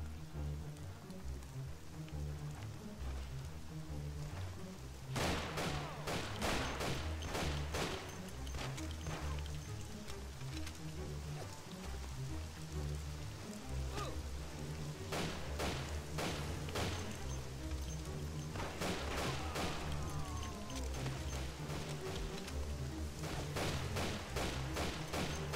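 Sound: gunfire in the video game Mafia

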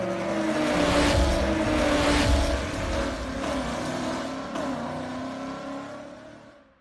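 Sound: C8 Corvette Z06 car engine revving

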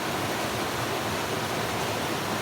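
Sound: creek water flowing

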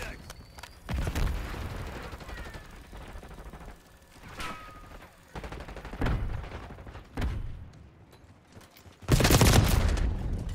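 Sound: gunfire in video game Call of Duty Black Ops 6

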